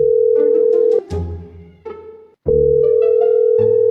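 A telephone dial tone hums steadily and loudly, briefly cut off in the middle while other music-like tones and noises intrude, then resumes.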